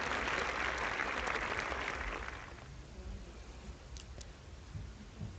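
A simulated crowd in the train game Traintown applauds loudly after a mission, then fades after about two seconds into quiet background rustle with a couple of faint clicks.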